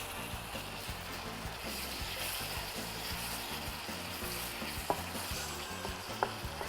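Chili frying with mashed cassava in a pan, a constant soft sizzle with a steady rhythmic scraping of stirring and an occasional sharper clack of the utensil.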